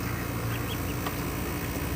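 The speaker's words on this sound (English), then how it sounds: "These are my new baby ducks." Baby ducks on their first time outside, with soft high peeping calls scattered over a steady background murmur, fairly quiet and close.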